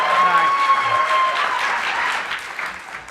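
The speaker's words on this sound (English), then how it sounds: "By round of applause, who thinks Brent was kissed by an Orthodox priest?" Live audience in Boise applauding as a vote, dense sustained clapping that starts full and gradually thins, with a faint whistle or cheer near the start.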